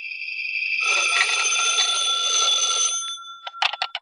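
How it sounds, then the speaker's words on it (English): Old telephone bell ringing in an old-time radio detective drama: a loud, sustained metallic ring lasting about two seconds, then a few short clipped rings, with no talk. "When I got home, the phone was ringing."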